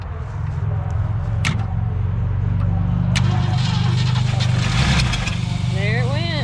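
Abandoned 1967 Ford Galaxie 500 with a rebuilt carburetor and new points and condenser cranks and catches, a loud close engine churn with sputtering bursts as it fires, while someone speaks over it.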